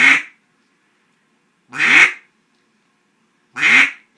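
Three short, loud raspy quacks from a duck call mimicking a mallard drake greenhead, evenly spaced with silence between, close and alone.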